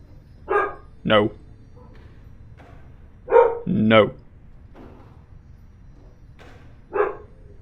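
Several dogs bark in short sharp bursts, single and double yips spaced irregularly, fairly close, with a few quieter whines between them.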